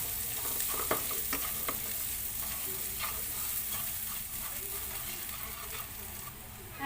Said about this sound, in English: We cook our onion until it gets translucent or brown.